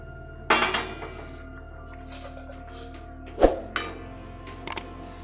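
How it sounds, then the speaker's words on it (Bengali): A metal lid comes off a cooking pot of simmering potato payesh, giving a sharp clink, a louder clatter a few seconds later and light metallic taps, with quiet kitchen background and no talk. "আমি এখন ঢাকাটা সরিয়ে নেব"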